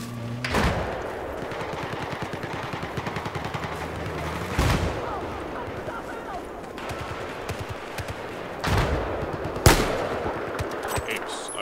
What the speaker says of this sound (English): Oops, I just shot a teammate in the back.